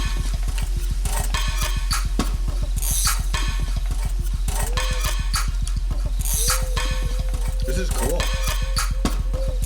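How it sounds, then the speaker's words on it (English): Rhythmic electronic music with a pulsing bass, layered with a swirling metallic winding sound; a voice speaks briefly over it. "I'm totally geeking out about that winding noise."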